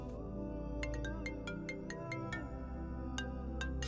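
A phone rings with a faint melodic ringtone, its short bright tones repeating over a low steady background hum.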